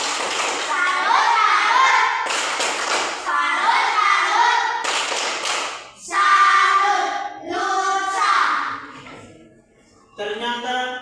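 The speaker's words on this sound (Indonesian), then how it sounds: "mari kita beri tepuk salut untuk dia" A classroom of Indonesian children clapping for a classmate, with bursts of applause mixed with lively children's voices and chatter close by.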